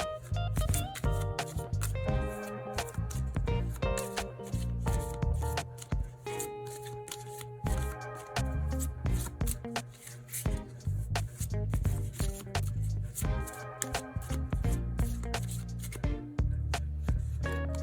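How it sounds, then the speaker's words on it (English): A spellcasting tarot deck is shuffled by hand in long continuous bursts of riffling and rubbing card noise, close and steady, with brief pauses between runs and no talking. "3 lightning cards that calls for some shuffles from the spellcasting deck"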